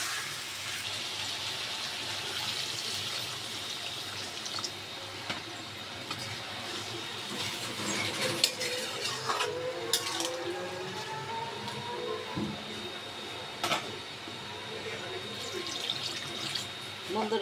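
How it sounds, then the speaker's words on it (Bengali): Water is poured into a pan of eggplant and fried tengra fish curry to make the broth, giving a soft steady wash of liquid with small splashes and bubbling, fairly quiet and close. "তরকারিটা আমি ঝোল অ্যাড করে দেবো।"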